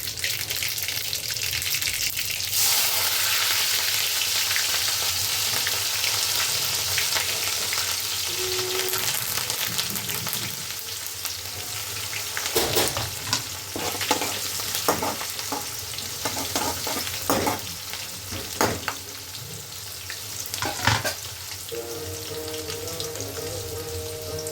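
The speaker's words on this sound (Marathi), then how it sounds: "त्याच तेलामध्ये जिरं, मोहरी, कढीपत्ता, मिरची ॲड करणार आहे." Cumin, mustard seeds, curry leaves and chilli spluttering in hot oil: a loud dense sizzle that later breaks into crackling pops and clattering stirs, with no talk.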